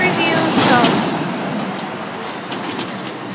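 Street traffic passes along a road where a pedestrian waits to cross. A swelling whoosh of a passing car fades into a continuous hiss of traffic, with a voice faintly present.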